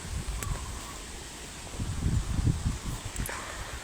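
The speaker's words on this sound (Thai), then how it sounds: "เช้านี้ลมแรง" A strong morning wind blows steadily outdoors, a constant airy rush with low buffeting gusts against the microphone and occasional faint rustling.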